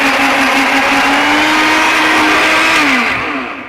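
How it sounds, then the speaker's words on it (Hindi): A grinder machine whirs loudly and steadily as it grinds mango pulp, its motor tone holding constant and then winding down at the end. "और फिर आप इसको ग्राइंड कर लें।"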